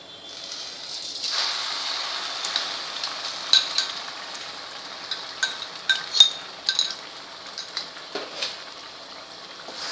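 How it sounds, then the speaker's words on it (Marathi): Chopped onion fries in hot oil in an iron wok, a soft steady sizzle with scattered metallic clinks and scrapes from stirring, fairly quiet and close. "आता आपलं हे तेल तापलेलं आहे. त्यात आपण हा कांदा घालायचा आहे."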